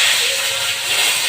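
Bay leaves dropped into hot oil in a kadai on the stove give a brief, steady, bright sizzle, close and fairly loud, with no talk.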